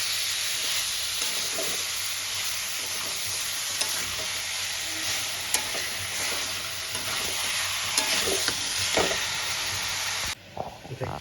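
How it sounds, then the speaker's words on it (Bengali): Chicken stir-fried with spices in a pan gives a dense, even sizzle throughout, with occasional stirring clicks, ending in a short quieter moment. "চিকেনটা আমি একটু মশলার সঙ্গে ভালো করে কষিয়ে নেব"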